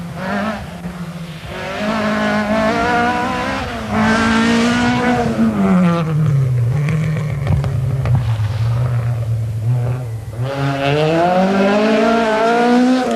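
Opel Manta rally cars racing on a stage of the 1984 Circuit of Ireland Rally, with engines loudly revving up and down through gear changes, passing close by.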